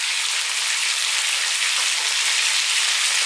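Garlic and ginger paste frying in a hot pan for an Indian chicken curry, giving a steady, close, bright sizzle that holds even from start to finish with no voices.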